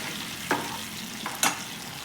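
Tomato fries on a medium flame in a pan, a steady close sizzle broken by two or three quick scraping stirs.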